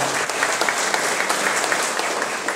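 A parish community gathering breaks into steady, loud audience applause, a dense continuous roar of many hands clapping without pause for a few seconds.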